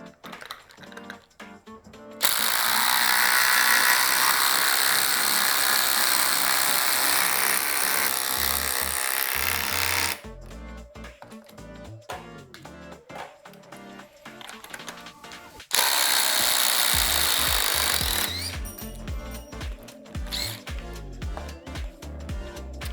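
DeWalt DCF850 Atomic, Milwaukee M18 Fuel and Flex cordless impact drivers hammer fasteners into wood in loud sustained bursts, a harsh rapid rattling that starts and stops in separate runs separated by quieter gaps.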